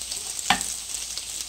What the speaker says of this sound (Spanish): dorando o friendo